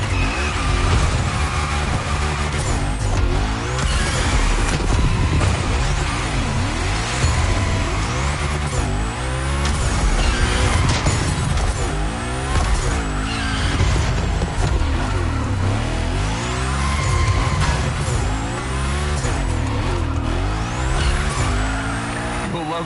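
Ford Mustang Hoonicorn in The Crew Motorfest Gymkhana training, a loud, continuous engine roar with rising and falling revs and tire squeal through big slides, with a voice talking intermittently over it.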